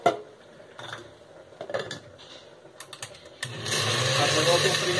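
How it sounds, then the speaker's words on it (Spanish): A blender starts up partway through, mixing white sauce for pasta with cheese. A loud steady whir follows a few seconds of quieter clattering and handling sounds. "mandamos a la licuadora con cuidado."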